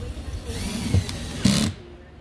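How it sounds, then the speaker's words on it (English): A power drill on a low clutch setting drives a screw into a navigation light base, giving two brief whirring bursts amid quieter handling noise. "Just going to screw it back down. Real low setting on my clutch on my drill"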